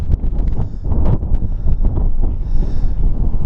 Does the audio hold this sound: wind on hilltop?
yes